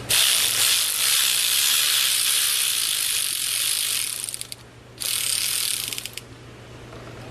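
A ratchet backs out 8 mm cam retainer screws: close, rapid clicking and whirring runs almost continuously, breaks off briefly near the end, then resumes in shorter bursts, with no voices heard.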